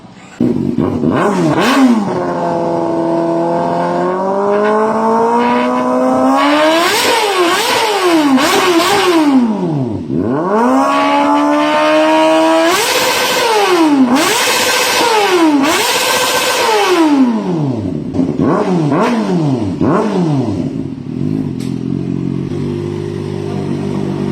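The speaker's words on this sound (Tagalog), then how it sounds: "full exhaust system. Nilagay natin dito, Bilhin Hyper version 3. Bagong muffler natin, nag-restock na to. Sound check naman tayo guys." Kawasaki ZX-4RR motorcycle fitted with a Villain Hyper V3 full exhaust, revved hard from idle in repeated rising and falling bursts, a loud, close, high-pitched inline-four wail with crisp blips between pulls.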